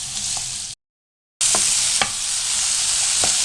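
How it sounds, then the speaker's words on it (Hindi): Potatoes frying in hot oil give a steady bright sizzle with a few soft stirring clicks, cut by a brief silent gap partway through. "आपने सिर्फ 1 मिनट के लिए आलू को यहाँ पे फ्राई करना है"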